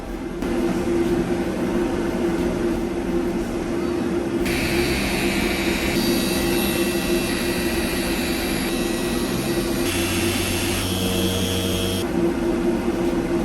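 A heat gun blows steadily on a New Edge Mustang headlight lens, a continuous loud roaring whoosh that shifts in tone partway through as the gun is moved or adjusted, with no talking.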